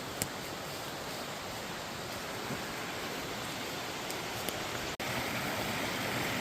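Toby Creek flows past in a wooded setting near waterfalls, with a steady broadband rush of running water, constant and fairly soft, with no talking.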